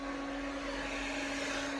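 A hair dryer blowing: a steady, droning motor hum with a strong low tone and airy hiss, running continuously at close range with no talking.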